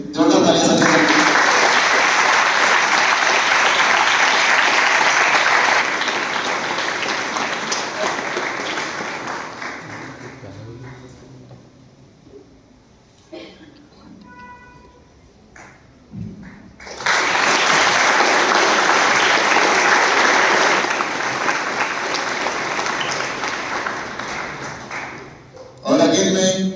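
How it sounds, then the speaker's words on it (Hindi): Loud, dense audience applause at an RRB results celebration, a long sustained roar of clapping that dies into a quieter stretch where voices speak, then erupts again just as strongly before trailing off. "जोरदार तालियां संजय सर के लिए।"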